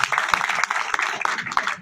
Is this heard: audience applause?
yes